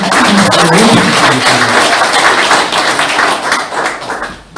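At a Uri Republican Party Gyeonggi provincial members' meeting, a room audience applauds party officials in a loud, dense burst of clapping that fades toward the end.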